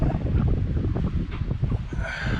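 Strong wind gusts over the microphone on a solo sailboat near cliffs, a loud continuous roar with rushing water and rustling that never lets up.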